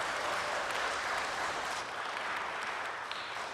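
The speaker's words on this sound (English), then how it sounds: "round of applause again for our two fantastic authors." An audience at a meet-the-authors book event in Church of the Redeemer applauds two authors. The clapping is steady and dense from many hands, fills the room for several seconds and tapers slightly toward the end.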